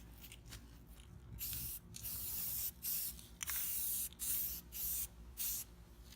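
An aerosol can sprays paint onto a Jeep tire carrier being restored, in a series of about seven sharp hissing bursts of roughly half a second each, close by, with pauses between them.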